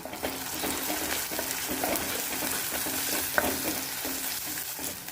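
Chili paste being stirred into a pan for Telugu fish curry (chepala pulusu), with rock salt, chili powder and green chilies; a steady close scraping and mixing with a soft sizzle underneath and one sharp clink.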